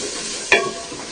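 A chickpea curry with masala is stirred in a large handi, one sharp scrape of the spoon over a soft continuous sizzle.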